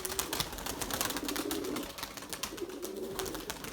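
A flock of domestic pigeons released outdoors, with a fluttering rush of many wingbeats nearby and some soft cooing mixed in.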